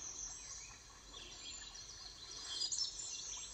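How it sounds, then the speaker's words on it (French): Birds chirp and sing steadily in the open air, a continuous soft chorus of high tweets with faint insect-like buzzing beneath, no voices. "Laissez-vous bercer par le chant des oiseaux"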